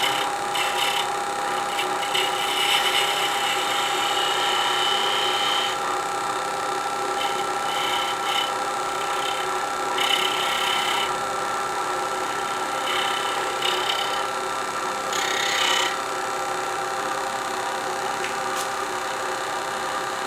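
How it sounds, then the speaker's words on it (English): A detail gouge cuts a wooden bell ornament spinning on a lathe, giving a steady motor hum with intermittent scraping bursts of the tool against the wood throughout. "Now back to my detail gouge. Clean that feature up."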